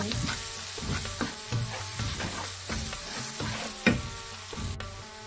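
Spices being stirred and fried in a pan with red chili and curry powder for a pumpkin bhaji, with steady close sizzling and repeated scraping stirs, no voices.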